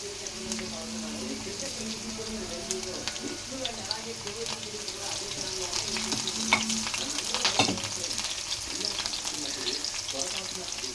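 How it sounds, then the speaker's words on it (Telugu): Thinly sliced garlic frying in oil in a pan for paneer manchuria, a steady close sizzle with scraping stirs and small pops running throughout. "ఇది కొంచెం అలా ఫ్రై అయినాక మిర్చి వేసుకుందాం."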